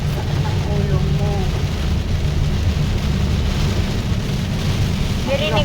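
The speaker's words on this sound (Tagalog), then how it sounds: "Pag ganyan din naman yung ano hangin, no? Tapos yung ulan." Typhoon wind and heavy rain make a constant, dense roar of rainfall and gusts, loud and unbroken throughout, with faint voices briefly audible in the background.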